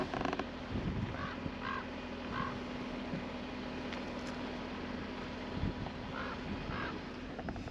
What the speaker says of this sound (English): Yes, Crow, I can hear you.